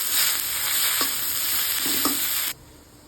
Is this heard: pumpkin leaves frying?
yes